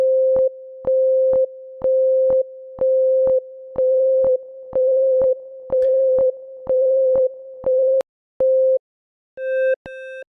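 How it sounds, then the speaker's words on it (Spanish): Rhythmic delay echoes from the free Deelay plugin with distortion applied, a steady train of clipped tonal repeats pulsing about twice a second, closing with a few slower repeats and a brief bright tone. "ya pueden ver cómo los nuevos ecos ya tienen esa distorsión"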